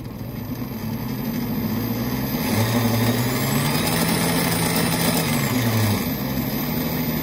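A BBSHD mid-drive e-bike motor on an ASI BAC800 controller spins up to very high RPM using field weakening, a loud steady motor whine and drone with a rising pitch that holds, then dips near the end.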